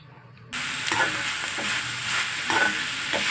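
Minced mutton keema sizzles steadily in a hot pan for a mutton keema recipe, with a spoon stirring it in brief scraping strokes; the frying starts abruptly after a short quiet moment and continues close and loud.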